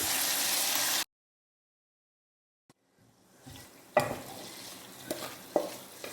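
Onion and capsicum sautéed in butter in a pan for kadai paneer: a burst of loud frying hiss cuts off abruptly, then after a pause comes quieter sizzling with scattered spoon scrapes and clinks against the pan.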